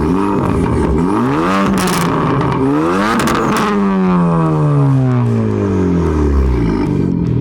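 A direct-injection hatchback engine revs hard and accelerates, loud and close, with rising and falling gear-change sweeps and rattly clatter throughout, the pitch dropping steadily toward the end.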